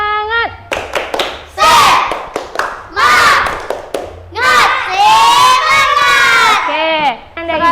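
Schoolchildren in a classroom clap a loud rhythmic spirit chant together, with sharp claps mixed with shouted chanting voices in bursts.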